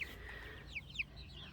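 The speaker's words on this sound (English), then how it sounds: "I think we have a couple of roosters in there" A few soft chicken clucks sound close by in a chicken tractor over a low, steady background hum.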